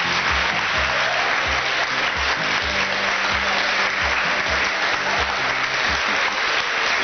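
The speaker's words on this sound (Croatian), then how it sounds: "Kakav aplauz, a?" Dense audience applause at a fashion show, steady clapping from a crowd with a low rhythmic music beat underneath.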